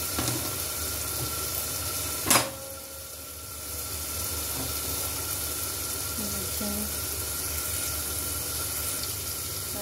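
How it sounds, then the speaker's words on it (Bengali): Hot oil in a frying pan hisses with a steady, even sizzle for the whole stretch, broken by one sharp clatter early on, with faint kitchen noise and a little voice behind it. "প্যানটা গরম হয়ে গেছে, তেল দিয়ে দিচ্ছি।"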